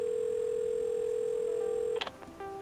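A telephone in the repair game Assemble with Care gives a steady dial tone, which cuts off into a short burst of dialing tones and then a lower, quieter tone.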